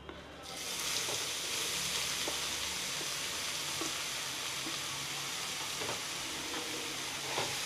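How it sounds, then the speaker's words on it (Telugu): Grated carrot sizzles and fries steadily in ghee for carrot halwa, a dense continuous crackle with occasional stirring knocks, close and fairly loud throughout, no talk. "ఇక ఇప్పుడు క్యారెట్ వేసుకొని వేయించుకుందాం"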